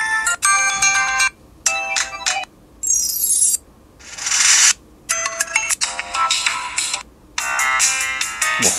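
A Big Bang ringtone plays at full volume on an Elephone S2 smartphone: loud, bright melodic bursts separated by short silent gaps, with one sweeping shimmering passage in the middle, heard alone without talk.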